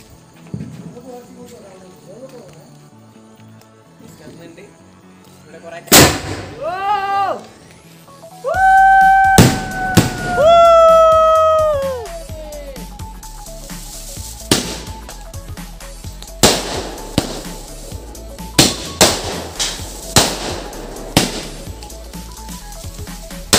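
A sharp, loud blast from a large firecracker at a New Year celebration rings out, followed by several more scattered bangs, with people talking and animal-like whistling sounds between them.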